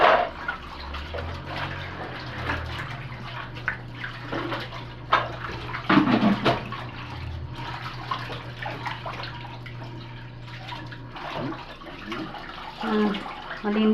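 Pig intestines are rinsed under a running tap for dinuguan: a steady stream of water splashes and gurgles throughout, with occasional louder sloshes and a low hum underneath.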